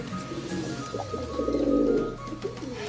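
Pigeons coo softly and steadily nearby, a low, throaty rolling murmur that swells in the middle.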